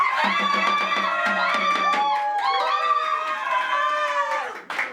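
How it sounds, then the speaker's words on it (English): A crowd of voices cheers together outside a house in a staged suffragette play, a loud, continuous swell of overlapping calls with rising and falling pitch that fades out at the end. "The crowd cheered and..."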